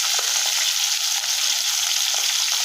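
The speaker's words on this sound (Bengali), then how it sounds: "আমি চিচিঙ্গা রান্না করার জন্য এখানে মাছগুলো ভেজে করে নিলাম" Tilapia fish frying in hot oil, a dense, loud, continuous hissing sizzle heard up close and alone.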